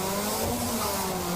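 A race car at Brands Hatch GP circuit revs and launches off the start line during a trackday race, a loud, dense engine roar filling the short stretch without pause.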